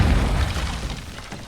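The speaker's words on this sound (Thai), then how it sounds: "ใครวางกับดักระเบิดไว้วะ" Explosive trap detonating in the mobile shooter Warzone Mobile, a loud low-heavy blast that fades into a rumbling tail over a second and a half, with no talk.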